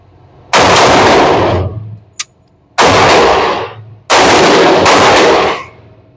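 A Kriss Vector set up for self-defense firing outdoors, three loud, sharp bursts of rapid gunfire, each about a second long and separated by short pauses, with a faint metallic ping between the first two.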